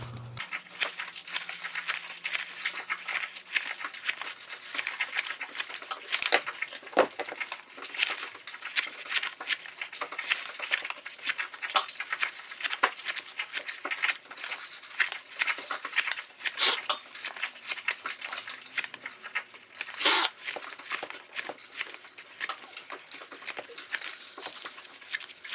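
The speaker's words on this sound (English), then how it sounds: "Don't cut all the way to the edge, but just make skinny slits" Scissors snip skinny slits into brown paper for a paper flower bouquet, giving a steady run of close, crisp cuts mixed with papery crinkling and rustling throughout.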